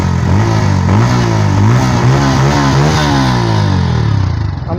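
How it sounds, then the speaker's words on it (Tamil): A Bajaj Pulsar N160 motorcycle engine revs up close and loud, its pitch climbing and falling through several throttle blips before easing off at the end. "engine sound"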